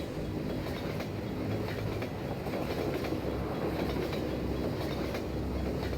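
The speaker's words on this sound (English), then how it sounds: "So we got to wait for the train to come over here." A train rolls in within the Half-Life 2 game, a steady, dense rumble of rail noise with faint clickety-clack and metallic wheel tones running unbroken throughout.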